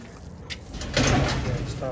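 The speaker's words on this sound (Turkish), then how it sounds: "Kapıyı aç. Açayım mı? Aç aç." The door of a large pigeon coop being opened: a brief scrape, then a louder sliding rattle partway through, close by, with people talking around it.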